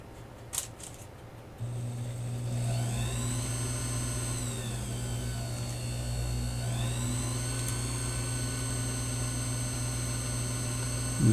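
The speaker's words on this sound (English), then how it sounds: "I'm just hoping I don't break this drill bit." A drill bit cutting through metal lubricated with cutting oil, heard as a steady, close whirring drone with a constant hum and shifting high whine, running continuously after a brief clatter at the start.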